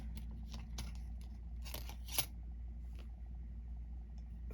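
Scissors snip out a paper frame for a shaker card, giving a few faint, quick clicks and cuts over a steady low background hum.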